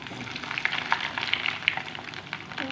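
Chicken and beetroot stuffed balls fry in oil over a low flame, giving a steady, fairly quiet sizzle with small crackling pops throughout.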